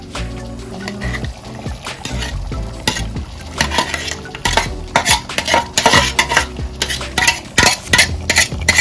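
Pork meat for Goan sorpatel tipped into a spiced pan and stirred, loud close sizzling with rhythmic scraping and clattering of a utensil against the pan, growing busier toward the end.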